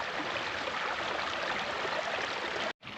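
A scenic creek flows steadily, a dense, even rush of running water that fills the air up close before cutting off abruptly near the end.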